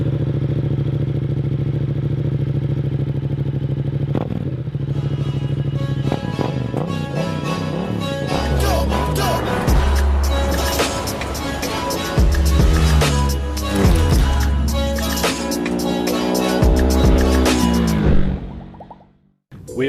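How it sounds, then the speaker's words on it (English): A Yamaha XSR 700 motorcycle engine running nearby, a loud steady idle rising into repeated blips and revs with mechanical clatter, cutting off abruptly near the end. "we gotta hear what this bike sounds like"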